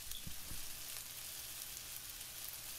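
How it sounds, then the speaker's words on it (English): Onions sizzle and fry in oil in a pan for a stir fry, giving a steady, dense crackle throughout with a couple of soft knocks near the start. "I'm adding some oil to the pan, making sure it's evenly coated, and getting started with my onions."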